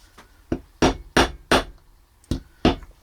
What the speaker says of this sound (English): I will just tap it down with a hammer to burr it.